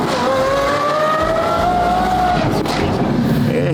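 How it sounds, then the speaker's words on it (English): Twin-turbo Ferrari F12 with a straight-piped Gintani F1 exhaust, its loud engine note rising and falling in a sustained rev, close and dense throughout with no talk. "Oh, man, that Gintani F1 exhaust. Music to my ears"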